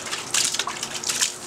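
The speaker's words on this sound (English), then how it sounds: "I'll get a little bit more of my soapy water" Soapy water poured into a gold pan holding heavy mineral sample, a short bright splashing and trickling burst, close and loud with no voices.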